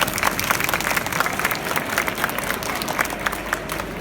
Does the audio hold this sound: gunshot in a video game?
no